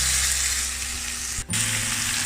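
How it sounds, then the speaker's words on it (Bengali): Chicken pieces fry in hot oil for homemade chicken tandoori, a loud steady sizzle close by, broken by a brief dip and a slight shift in tone, with no talk. "অয়েলটা গরম হলে একে একে চিকেন দিয়ে দেওয়া হচ্ছে।"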